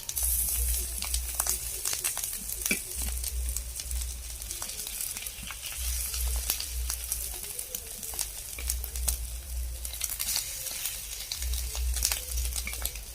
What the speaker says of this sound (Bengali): এবার কড়াইতে এই সাইডটা ভাজা হয়ে আসুক, এরপরে তুলে নেব।